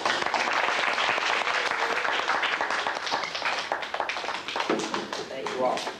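A roomful of people at a presentation gives loud, dense applause that carries steadily for about six seconds with scattered voices mixed in, fading slightly near the end.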